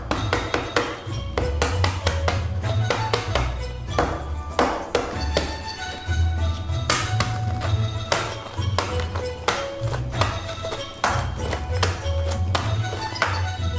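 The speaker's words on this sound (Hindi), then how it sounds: "जब यह ठंडा हो जाएगा तब हम इसे तोड़ना शुरू करेंगे।" Repeated sharp taps crack the shell of a boiled, cooled ostrich egg during giant tonkotsu miso ramen preparation, irregular bursts of knocks, close and fairly loud, set against a steady low background drone.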